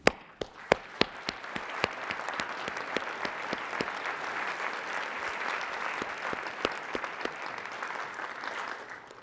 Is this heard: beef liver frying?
no